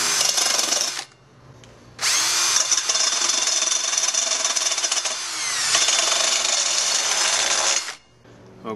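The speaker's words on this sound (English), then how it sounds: "the rotary tool and the drum sander on a drill on high RPM, we're going to go ahead and shave some of this off here" A drum sander chucked in a power drill spins at high RPM, shaving down a plastic part for a homemade DSLR ring flash. The loud, steady grinding whine runs in two long bursts with a brief pause between them, and no one speaks.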